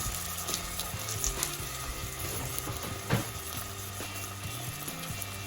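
Frozen peas sizzle and crackle steadily in a hot pan, a soft continuous hiss with occasional pops, heard close with no talking.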